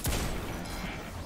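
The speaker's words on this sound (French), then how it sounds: "c'est derrière moi que ça tire" Gunfire in the video game Destiny 2 coming from behind the player, a dense, continuous burst of shots with a sharp onset, steady and fairly loud across the whole moment.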